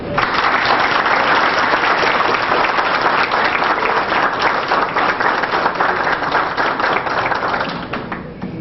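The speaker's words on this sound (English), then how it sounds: "Please give them a hand." A large crowd at a political gathering claps loudly and steadily, a dense continuous wash of many hands that holds at full strength throughout and thins slightly only toward the end.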